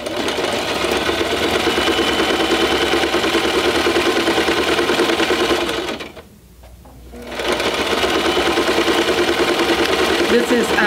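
Sewing machine stitching a quilted grid through fabric and batting for a tablet cover, a loud steady whir close by that stops briefly midway and then resumes.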